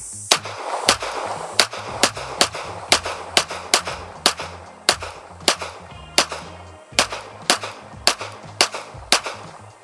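A Beretta M9 9mm pistol fires about twenty sharp, loud shots at a watermelon, spaced in a quick, steady rhythm with one short pause midway and no talking.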